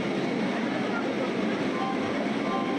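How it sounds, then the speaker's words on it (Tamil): A Vande Bharat train on the Coimbatore to Bangalore route pulls out of a station at about five in the morning, giving a steady, broad rumble of rolling noise that holds evenly for the whole stretch. "பொறுமையாக வந்தே பாரத் ட்ரெயின் வந்துட்டு கிளம்ப ஆரம்பிச்சிச்சு ஸ்டேஷன்லேருந்து"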